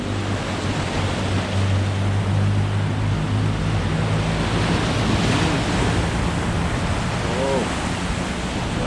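Strong gusting wind and rough, high-tide sea waves pound a shore in a steady, loud roar of surf and wind buffeting the microphone, with no voices present.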